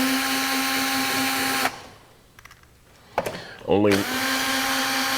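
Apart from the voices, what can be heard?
power driver removing T25 screws from DeWalt 788 scroll saw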